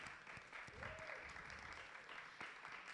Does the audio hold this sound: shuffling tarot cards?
no